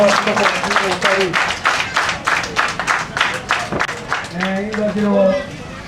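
An audience at a P.E.B.Co-Bethesda agency ceremony in Ouesse claps loudly for the director general, a dense, sustained burst of applause with a voice speaking over it.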